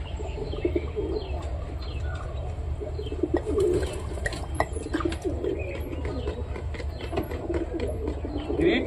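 Pigeons, Giribaz among them, coo in a loft with soft, repeated throaty calls close by, over a low steady background rumble with faint chirps and occasional small knocks.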